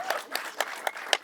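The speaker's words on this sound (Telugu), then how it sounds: "ఎస్, చప్పట్లు కంటిన్యూస్ గా మోగాల్సిందే" Audience applause at a film success meet for the movie Shambhala, heard as sparse individual claps in a loose pulse of about five accents over a second, fairly close and moderate in level.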